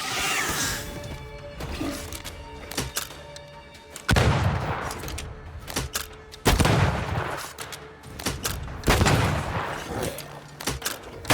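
Shots crack out in bursts from a gun-wielding corpse in the game Banishers: Ghosts of New Eden, heavy loud impacts separated by short pauses, several blasts over about eleven seconds.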